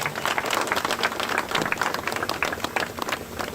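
Volleyball tournament teams are greeted by a crowd's steady applause, dense overlapping clapping that carries on strongly throughout at close range.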